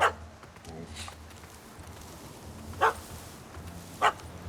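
A dog barks in The Witcher 3: Hearts of Stone, with three sharp, separate barks spread over a few seconds above a low, steady game ambience, and no one speaks.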